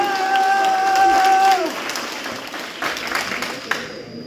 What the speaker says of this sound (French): Je vous demande de les applaudir très chaleureusement